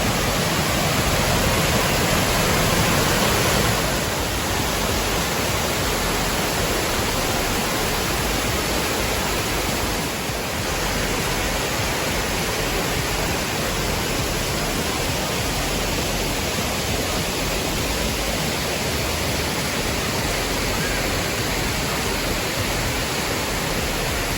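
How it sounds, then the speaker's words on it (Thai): Kroeng Krawia Waterfall in Thailand roars as a dense, unbroken wash of falling water, loud and steady throughout with only slight shifts in level and no voices. "นี่ด้านหลังจะเป็นฉากน้ำตกนะครับสวยๆเลยนะครับ"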